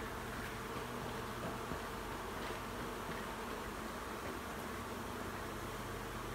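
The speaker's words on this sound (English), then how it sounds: "So there's always a few bees left in these boxes." A few stray bees trapped in honey boxes inside an extraction facility give a faint, continuous buzzing hum, low and steady throughout with no talking.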